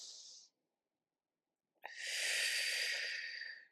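Deep breaths during a beginner at-home pilates stretch: a short exhale, a quiet pause, then a long, close, airy breath lasting nearly two seconds.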